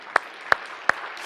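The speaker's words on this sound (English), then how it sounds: "Let's give them a round of applause." Clapping from a church congregation during a worship service: three sharp, separate claps, evenly spaced and close, over a quiet room.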